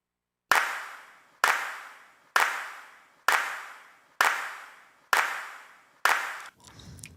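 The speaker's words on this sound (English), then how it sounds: "And then I got some stereo claps here." Seven crisp stereo hand claps from a percussion sample, evenly spaced about a second apart, each sharp and isolated with a short decaying tail, followed by faint noisy rustle at the end.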